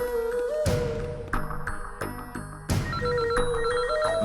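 A telephone rings in a home: a bright electronic ringtone melody repeats loudly and continuously in the foreground, alone with no talk over it.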